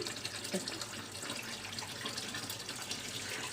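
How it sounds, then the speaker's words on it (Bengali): Raw mustard oil is poured during home cooking, giving a faint, continuous liquid trickle that goes on steadily for a few seconds without talk. "এখন দিয়ে দিব সরিষার তেল"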